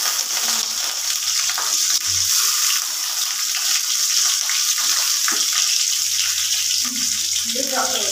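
Curry leaves hit hot oil along with onion, dried red chilli and tomato for an okra tamarind gravy, giving a loud, continuous sizzle and spatter that lasts throughout.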